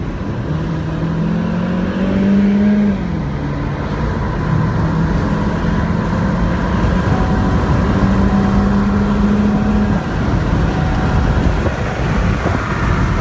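A car engine held at wide open throttle during a catalytic converter back-pressure test, a steady loud drone with rising and falling engine tones throughout, no talking.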